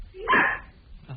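A dog heard over a telephone line lets out a single short bark, thin and band-limited, followed by a faint trailing sound.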